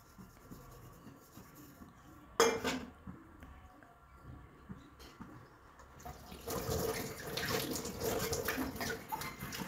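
Dishes washed by hand under a running tap at home: a steady wash of water with a sharp clatter early on, then the flow swells louder and stays continuous to the end.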